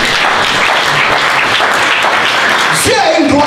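A church congregation applauds and cheers in a dense, steady wash of clapping that fills the space, with a voice rising over it near the end.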